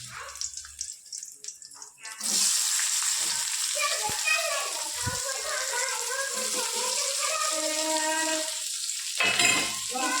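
Onions land in hot oil already holding chilies, setting off a sudden loud sizzle after quieter clattering, then a steady crackling fry with a few clunks of a pan or spoon.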